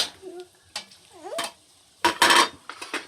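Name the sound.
octopus added to the cooking pan, sizzling and stirring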